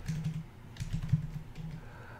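Java code being typed on a computer keyboard: a quick run of soft, close key clicks in uneven bursts, quiet and alone with no talking.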